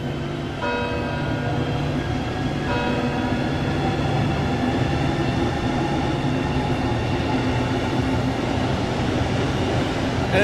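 A single-unit train running in Train Sim World 2, a steady loud rumble and rolling hum with tonal motor whine throughout, unbroken and close.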